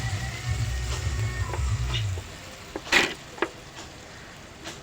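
Masala and tamarind water hitting a hot tempering in a pan for a kambu kizhangu kootu, a loud sizzle and bubbling frying that fades after a couple of seconds, followed by a few close stirring clinks.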